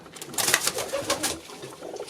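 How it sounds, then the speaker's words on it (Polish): Pigeons coo softly in a close pigeon loft housing about seventeen breeding pairs of show and racing birds, a short burst of throaty calls with no speech over it. "I tutaj, Wojtku, jaki tutaj mamy gołębnik?"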